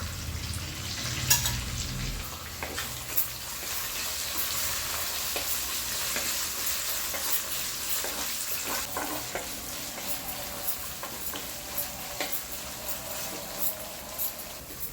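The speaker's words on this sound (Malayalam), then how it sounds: "ഇനി ഇതിലേക്ക് നമുക്ക് കാന്താരിയും കറിവേപ്പിലയും ഇട്ട് കൊടുക്കാം" Bird's eye chilies and curry leaves fry in hot oil for a rambutan pickle, giving a constant bright sizzle with a burst of crackling early on and scattered soft clicks from stirring, with no voices.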